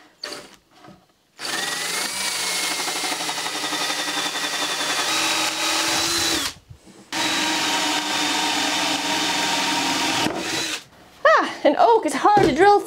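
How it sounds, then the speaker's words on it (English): A power drill bores through hard oak hardwood flooring for a round table, two long steady whining runs separated by a brief pause, loud and close, followed by short bursts of talk. "An oak is hard to drill through."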